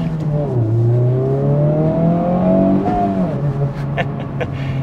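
A Honda Civic Type R FL5 hot hatch revs and accelerates, its engine note climbing steadily through the rev range, dipping briefly, then settling into a strong, close, continuous drone.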